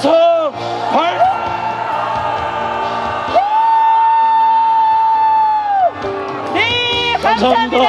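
Several bursts of shouting and cheering rise from a large crowd at a prayer rally in Sejong, Korea. A long, steady, loud roar sits in the middle, with choppier yells and whoops before and after it.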